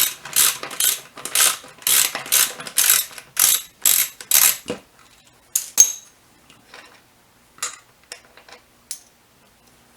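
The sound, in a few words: ratchet with 10mm socket removing Kawasaki Vulcan 800 air filter cover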